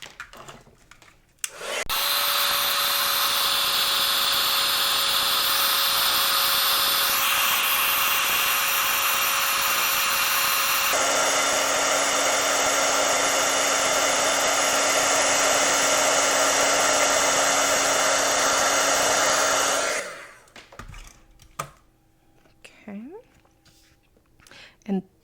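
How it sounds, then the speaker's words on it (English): A handheld heat tool whirs loudly and steadily for about eighteen seconds, shifting pitch partway through, while it melts embossing powder on a stamped card, then cuts off to quiet handling noises. "I'm going to go ahead and set that with the heat tool"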